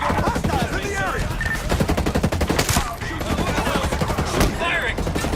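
Rapid bursts of automatic gunfire from a Ghost Recon Breakpoint firefight, dense and loud throughout with overlapping shots and sharp crack-like transients, under scattered game voice callouts.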